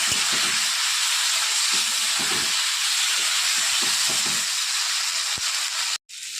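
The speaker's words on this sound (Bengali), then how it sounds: "মশলার সাথে সবজিগুলো ভালো করে কষিয়ে নেবো" Vegetables cooking with green chilli, ginger, cumin, poppy seed and mustard paste in a pan give off a steady, loud hiss and sizzle, with faint low knocks of stirring underneath and a brief drop near the end.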